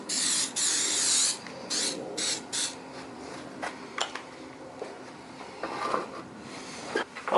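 Non-stick anti-spatter oil is sprayed before welding in short hissing bursts, with a few clicks and rattles between them and no talking.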